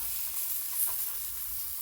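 Dhapate flatbread sizzles steadily on a hot griddle with oil and water, a close, constant crackling hiss with a faint brief pop.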